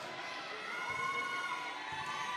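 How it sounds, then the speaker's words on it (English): Crowd noise fills a basketball gym during a high school game between Ezekiel and Eastwood as a player steps to the free-throw line, a steady broad roar of cheering and shouting with no clear breaks. "A lot of crowd noise."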